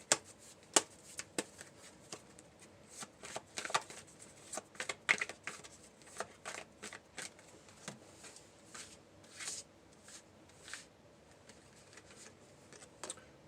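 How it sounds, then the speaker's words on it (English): Tarot cards riffled and shuffled by hand in a quiet room, a run of crisp, uneven snaps and flutters with short pauses between bursts, close and fairly soft. "I'm going to do a quick shuffle."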